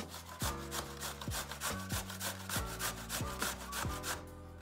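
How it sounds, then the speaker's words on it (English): A carrot is shredded on a hand grater for creamy coleslaw. Quick, rhythmic rasping strokes repeat close up, running under steady background music. "You just use this grater. And you grate it just like that."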